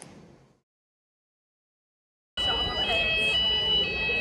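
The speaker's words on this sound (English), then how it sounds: "I have a fire alarm." A fire alarm going off at night: a loud, continuous electronic tone that sets in abruptly after a brief quiet stretch and holds steady to the end.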